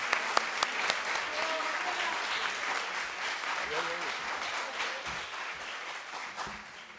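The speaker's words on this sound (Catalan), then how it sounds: "Un aplaudiment per ella, vinga, va." Audience applause at a diploma ceremony for radio and communication courses, a steady wash of clapping from a room of people that holds for several seconds, with a few sharper claps near the start and faint voices mixed in.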